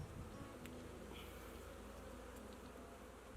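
Honey bees buzz steadily at a beehive in July, a continuous close drone with a few brief higher whines from individual bees passing near.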